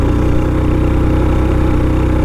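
A 2021 Honda CB 150F motorcycle engine in second gear pulls up a hill with a steady, loud, close drone that holds even throughout, no voices.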